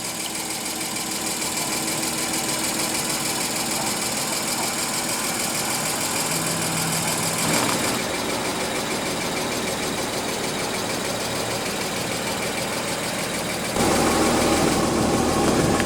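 A 2015 Porsche Cayman's 2.7 L flat-six engine idles after start-up, a steady mid-engine rumble with broadband noise, a brief dip midway, and a louder surge near the end.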